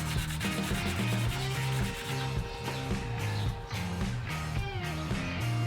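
Bone saddle blank for an acoustic guitar being sanded to roll its edges, a steady back-and-forth rubbing rasp repeating in even strokes, close and clear with no talk.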